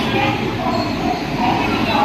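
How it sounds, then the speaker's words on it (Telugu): A passenger train pulls into a railway platform on a Hyderabad to Vizag route, giving a continuous rumbling clatter of rolling wagons with a faint squeal, close and fairly loud. "ట్రైన్ వచ్చేసింది ఆల్రెడీ ప్లాట్ఫామ్ మీదకి"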